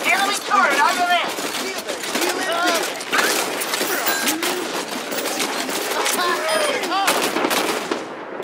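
Rapid mechanical firing from an enemy turret in Overwatch, a continuous rattling stream of shots under several overlapping voices and game chatter throughout.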